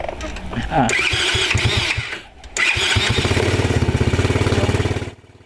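A quad bike engine cranks and catches, sputters briefly, then settles into a close, loud, pulsing idle before shutting off, with someone speaking over it.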